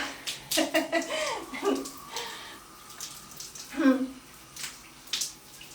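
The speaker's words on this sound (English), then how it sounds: "When you wear clothes into the shower, you really need to rinse a little extra." A running shower splashes as someone rinses off while wearing clothes, the water breaking and slapping irregularly against body and fabric at close range, loud and uneven throughout.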